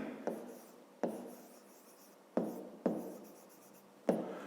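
Pen strokes on paper during a fifth-grade math exercise come as five distinct bursts of close scratching, each starting sharply and then trailing off into quieter scribbling, with no voices.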